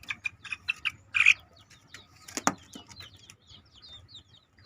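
One-month-old Bangkok chicken chicks peep and chirp in short repeated bursts, with a louder flurry near the start and a brief rustle midway, all fairly close over a low background hum.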